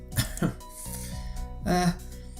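A girl coughs quietly two or three times up close, followed by a soft throat-clearing sound, short and subdued with pauses between.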